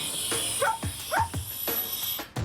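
Bella, a trucker's dog, barks several times in short sharp yips against steady outdoor background noise at an Outback loading area.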